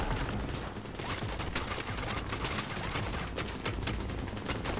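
Rapid gunfire from a firefight in The Division, a third-person shooter video game, with dense overlapping bursts of automatic weapon shots and sharp reports cracking continuously at close range throughout.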